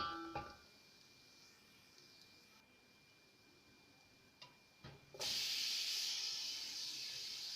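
Tomatoes go into onions and garlic already cooking in a pan for a Kenyan fresh tilapia dish. Faint kitchen noise and a few soft knocks give way to a sudden loud, steady sizzle that continues to the end.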